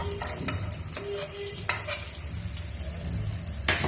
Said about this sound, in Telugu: ఈ టమాటా ముక్కలు మాత్రం కొద్దిసేపు వేయించుకున్నాం ఇట్లా కలుపుకుంటే వేయించుకుంటే మనకి తొందరగా వేగుతాయి టమాటా ముక్కలు కూడా